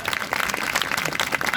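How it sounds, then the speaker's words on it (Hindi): Audience applause at a Hindi folk or comedy stage show in a village setting, a steady dense wash of clapping hands filling the whole stretch at moderate loudness, with crowd murmur mixed in. "अगर आपको अच्छा लग रहा तो एक बार ताली बजा दे।"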